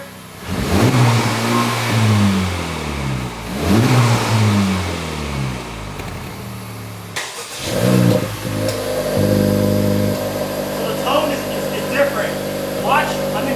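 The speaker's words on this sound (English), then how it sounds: "I'm gonna max it out, try to bump it off the limiter." Honda car engine revving hard against the rev limiter, about 3,500 RPM, in repeated rising sweeps that bounce off the cutoff, then a steadier high drone with some clicks, close and loud.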